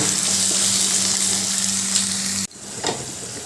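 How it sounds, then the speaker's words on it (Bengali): Ground spice paste frying in a pan while raw papaya kofta curry cooks: a loud, dense sizzle with a low hum underneath that cuts off abruptly, then quieter frying with a scrape or two and no speech. "এবার যে গুঁড়ো মশলার পেস্টটা করে রেখেছিলাম সেটা দিয়ে দিলাম দিয়ে আবারও ভালো করে কষিয়ে নেব"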